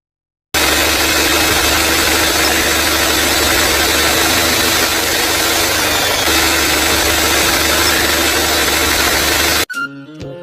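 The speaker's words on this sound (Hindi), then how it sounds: "फिर उस पर ट्रैक्टर चला के बीज बोती है" A cartoon tractor engine runs while sowing seeds, a loud, steady droning rumble that starts abruptly, holds constant for about nine seconds, then cuts off.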